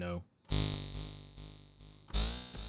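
A sustained, bright Sylenth1 synthesizer tone runs through a delay effect, with two main sustained notes and echoing repeats trailing after each attack, loud and upfront.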